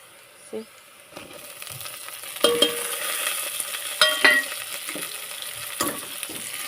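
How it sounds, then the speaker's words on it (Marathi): Chili and tomato frying in a pan for a cowpea pod vegetable dish, stirred with repeated clinks and scrapes over a steady sizzle, close and fairly loud. "हलवत राहते मिरची टमाटर त्याच्यामध्ये टाकून घेते"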